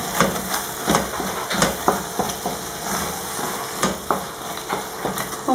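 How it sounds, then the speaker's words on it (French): Minced meat fries in a pan for lasagne, a constant sizzle broken by rhythmic scraping and knocking as a spoon stirs it, close and moderately loud, with no voices. "دابا نضيفو اللحم المفروم ونحركو"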